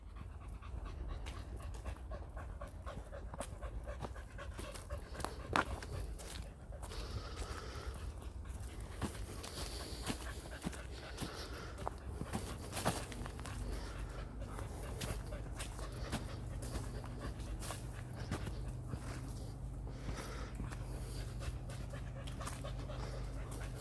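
A dog named Sal pants steadily and close by, with rapid breathing running through the whole stretch beside a tree-lined mound in Madeley, Telford, and the odd soft whimper in between.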